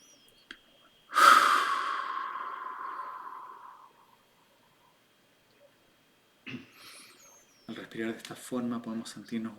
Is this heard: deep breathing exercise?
yes